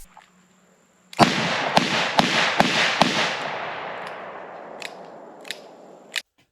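A revolver fires about five sharp, loud shots in fairly quick succession, each cracking report trailing into a long fading outdoor echo, followed by a couple of softer distant pops and one final louder shot.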